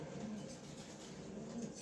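Sarjanpuri high-flyer pigeons coo softly, two brief low coos rising faintly above a quiet, hissy background with no voices.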